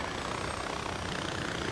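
A helicopter in the video game Far Cry 4 drones with a steady, dense rotor and engine roar, loud and continuous throughout.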